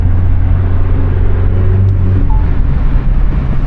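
Engine of a Renault Megane RS Trophy hot hatch while driving: a loud, steady low drone and rumble that holds evenly from start to finish, with no voices.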